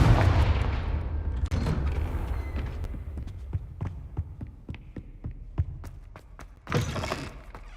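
A Confringo blast spell is cast in the Hogwarts Legacy video game, opening with a loud rumbling burst followed by a series of sharp, spaced crackling impacts and a final flare of noise.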